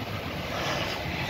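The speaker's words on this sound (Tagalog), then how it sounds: "Nindot ang hangin." Steady wind blows across the microphone in an open outdoor setting, a continuous broadband rush with no voices.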